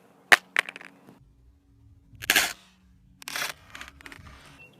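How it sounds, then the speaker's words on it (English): A Samsung Galaxy S6 Edge smartphone drops face down onto its glass back, giving a sharp crack of impact, a quick bounce, then later rattling and handling clatters, close and otherwise quiet. "I'm going to try and drop it face down, see if it would crack"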